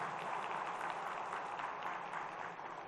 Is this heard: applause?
yes